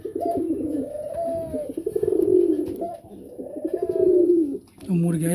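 Several pigeons coo in their loft, loud and near, with repeated rolling, throaty calls that overlap and surge in waves before a brief dip and a final burst.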